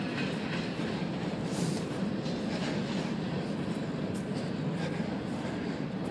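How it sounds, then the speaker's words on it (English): A train rumbles past continuously, a dense roar with faint rhythmic wheel clatter, steady in loudness throughout. "we got a train currently going by"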